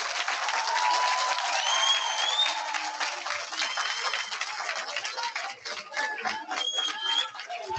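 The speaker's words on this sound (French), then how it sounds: "je tiens à applaudir les élèves qui se sont produits sur scène" Steady applause from an audience in a lecture hall for students who performed on stage, crisp dense clapping throughout with a few high whistles or squeaks mixed in.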